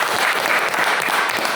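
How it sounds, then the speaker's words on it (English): Audience applause in a hall, dense steady clapping from many hands throughout the brief stretch with no voices on top. "We'll clap one more time down there."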